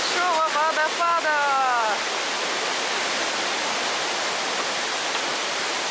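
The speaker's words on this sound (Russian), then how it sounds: "Все, друзья, мы дошли до большого водопада!" A large waterfall in Sapadere Canyon near Alanya, Turkey, roars as a steady broadband rush of water, with a voice briefly audible over it at the start.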